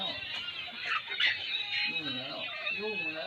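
A Pla Koi rooster vocalizes in short clucks and honk-like calls over a busy, noisy background, with someone talking intermittently nearby.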